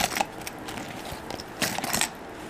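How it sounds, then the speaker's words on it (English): A bunch of keys jangles in short metallic bursts as it is dropped into a small Chanel wallet-on-chain bag, close and fairly quiet. "some keys"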